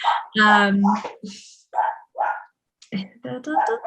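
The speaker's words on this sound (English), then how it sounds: "my apologies if you can hear the barking in the background" A dog barks and yips in short bursts close by, with a few whimpering notes between the barks.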